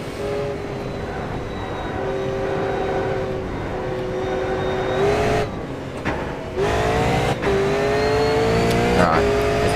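V8 Supercar engine in an online racing game drones steadily, rising in pitch through acceleration with brief dips at gear shifts or lifts, loud and continuous throughout.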